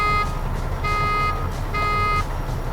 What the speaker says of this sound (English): I'll check my city horn